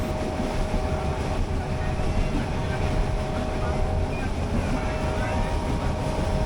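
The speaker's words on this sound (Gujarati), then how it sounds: "ગીરમાં જ્યારે આ ટ્રેન પસાર થાય ત્યારે તેની સ્પીડ ત્રીસ કિલોમીટરની હોય છે" A meter gauge train runs through Gir forest on the Junagadh to Sasan Gir line, making a loud, continuous rumble and rattle of wheels and carriages that stays steady throughout.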